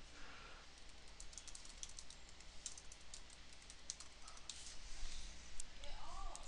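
Computer keyboard typing, a steady patter of light, quick key clicks heard fairly faintly and close, with no one speaking.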